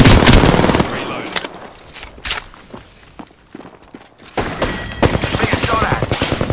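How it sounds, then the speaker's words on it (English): Gunfire in the video game Apex Legends: loud bursts of rapid automatic shots open the clip, then scattered single cracks and footsteps, followed by another dense volley near the end. "Being shot at."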